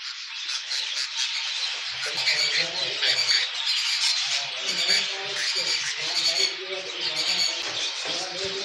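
Pet budgies squawk and chirp in a breeding aviary, a dense, continuous chorus of close, harsh calls that fills the whole stretch without letting up.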